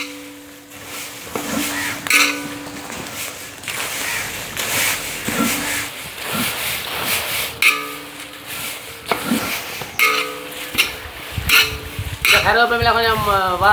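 Curry leaves and dried chillies roast in a pan with repeated metallic scrapes and clinks of a spoon against the pan over a faint sizzle, someone talking intermittently throughout.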